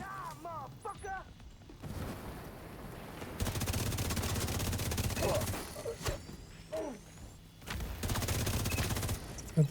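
Rapid turret gunfire bursts in a shooter video game, loud sustained fusillades broken by short gaps and sharp impacts, with game voice sounds mixed in early on.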